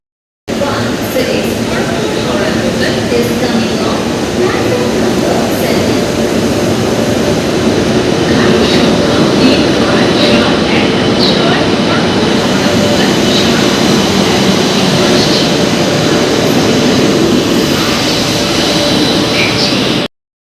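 An Amrit Bharat Express on the Shalimar to Charlapalli route rolls into platform 1, a loud, steady rumble lasting throughout with voices mixed in.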